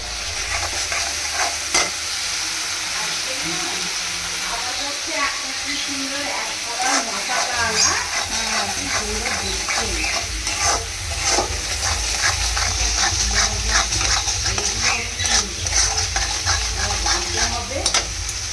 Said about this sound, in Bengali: এখানে করলা উচ্ছে ভাজা হচ্ছে